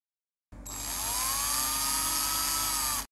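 A power drill bores holes through the side of a plastic water tank to mount a float-type water level controller, a steady high-pitched whine running without a break for about two and a half seconds, close and loud.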